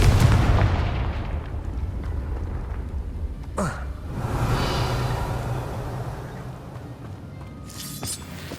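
Confringo fire-blast spell exploding in the Hogwarts Legacy video game, a deep booming burst with a long rumbling tail and a second sharp crack near the end, loud and close.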